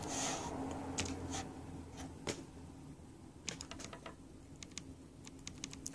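A command typed on a Lenovo 100s Chromebook keyboard, faint scattered key taps with a brief pause mid-way, then a faster cluster of clicks, over a quiet room hum.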